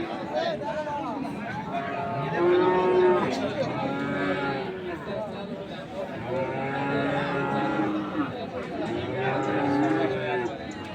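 Holstein Friesian bulls low repeatedly at a busy cattle market in Ambari, several drawn-out moos rising over a constant murmur of crowd chatter and nearby talking.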